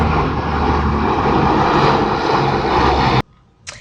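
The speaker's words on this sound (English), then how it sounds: "An airplane just flew past." Loud, steady roar of an airplane passing overhead, filling the space before cutting off abruptly, followed by quiet with a faint brief noise.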